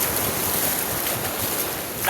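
Strong water surges and splashes against a boat in rough conditions, a dense continuous rushing wash with gusty wind noise over the microphone and no talking.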